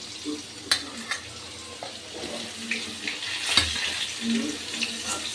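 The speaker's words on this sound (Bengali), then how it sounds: "আলুর সাথে পটলগুলো আমি ভালো করে ভেজে নেব।" Potatoes and pointed gourd pieces fry in oil in a pan, with a soft continuous sizzle and occasional sharp clinks and scrapes of a spatula stirring them.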